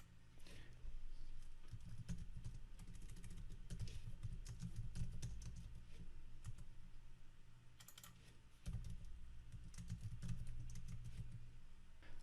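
Steady typing on a computer keyboard, a continuous patter of close keystrokes with a brief lull midway, over a low background hum and without speech.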